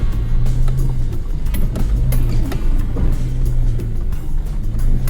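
A Subaru Forester driving along a rough track to a rock-hunting site: a steady engine hum and low road rumble with repeated drone pulses and occasional rattles, close and continuous, with no talk.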